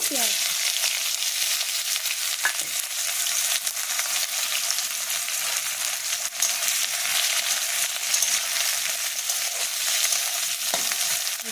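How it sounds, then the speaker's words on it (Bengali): Onions fry in a pan of oil and browned whole-spice tempering with a steady, dense sizzle, close up, broken by an occasional scrape or clink of stirring. "পেঁয়াজটা একটু লাল লাল করে ভাজা হোক।"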